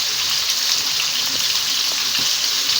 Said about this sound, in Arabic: انا بحمر البصله وبدأ لونها يغمق